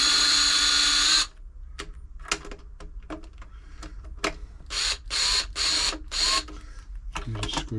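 Phillips screws being backed out of a New Home L 312 sewing machine with a screwdriver: a run of sharp, separate clicks and scrapes close by, with brief bursts of grinding metal, and no talking.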